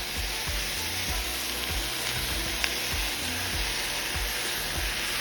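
Pre-cooked char siu rib meat and pineapple fry in a hot pan for a Chifa-style dish, giving a constant loud sizzle with soft periodic stirring knocks and no voices.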